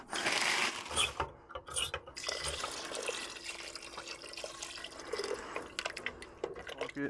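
Chicken broth pours from a can into a pot in a van kitchen, giving splashy, gurgling liquid sounds with drips and small clanks, close up and uneven, with brief pauses between pours.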